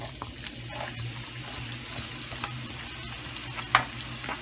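Finely chopped onion, half a cup, frying in three tablespoons of oil, a steady bright sizzle with a low hum underneath and one small clink near the end.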